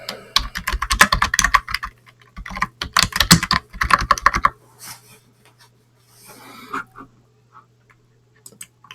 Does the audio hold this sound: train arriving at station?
no